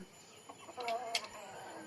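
Village chickens give a few short clucks and a brief squawk, faint and somewhat distant over quiet outdoor background.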